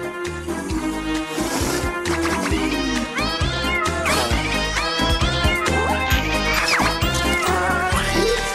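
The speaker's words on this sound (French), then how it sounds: "Il était une fois un grand chat bleu de la taille d'un homme." Animated cartoon cat Oggy, a big blue cat, meows over a busy musical score with strong rhythmic bass and melody running throughout, the cat sounds blending into the loud, continuous soundtrack.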